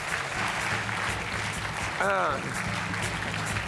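Studio audience in a French TV game show applauding steadily throughout, a dense, even wash of clapping with a brief voice rising over it midway.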